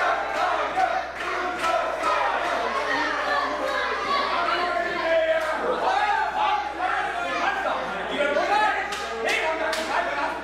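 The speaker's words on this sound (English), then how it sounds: "the crowd here in Odense just getting on the back of the Truth movement" A wrestling crowd in Odense roars and cheers as one side gets behind a team, a dense continuous wall of voices with shouts rising above it, steady and loud.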